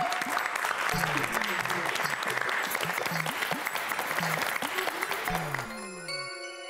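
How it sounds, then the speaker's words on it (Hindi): An audience applauds steadily to welcome guests onto a stage at an award event, the clapping continuous and fairly loud, with a low voice and music underneath that carries on briefly as the applause fades near the end. "जोरदार तालियों से स्वागत करें।"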